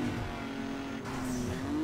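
A car engine over-revving in the Need for Speed Underground 2 video game, a sustained high whine whose pitch holds then climbs near the end, steady and close with no talk.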